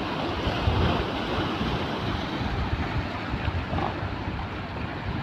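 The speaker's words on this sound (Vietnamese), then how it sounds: "nghe tiếng sóng này nó nổi dậy gà luôn" Sea waves surging and washing steadily around a boat in rough, windy weather, a continuous broadband rush with wind buffeting the microphone, no voices.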